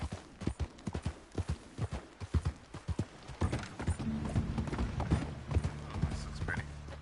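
Horse hooves clip-clop at a steady trot in the video game Red Dead Redemption 2, loud and close, with rhythmic hoofbeats and tack creaks, then a low rumble of background game sound joins partway through.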